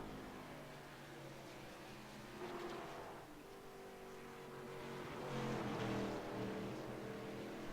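Race cars circling a track, their engines droning steadily with a rising and falling pitch that swells twice as cars pass close by, heard without speech.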